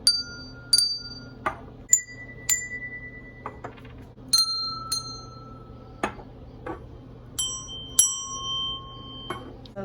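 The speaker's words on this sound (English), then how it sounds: "some musical bells" Small musical bells at a daycare science table ring one at a time, each bright strike sustaining and fading, some preceded by a light knock, in an irregular, unhurried sequence.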